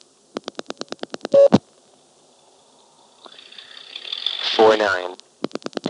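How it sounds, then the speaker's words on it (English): Brief burst of high-pitched telephone ring power on a 1975 step-by-step independent exchange in Marshfield, Vermont, a fuzzy tonal wash heard between rapid dial-like clicks and a short loud pulse. "when I pick up the phone, you can hear a little burst of a very high-frequency ring"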